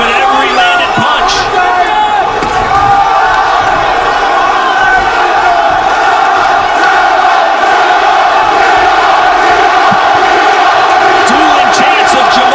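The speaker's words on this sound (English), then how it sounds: "Crowd roaring with every landed punch." A packed arena crowd roars and chants through a heavyweight kickboxing title fight between Rico Verhoeven and Jamal Ben Saddik, loud and unbroken, with rhythmic chanting rising over the general din.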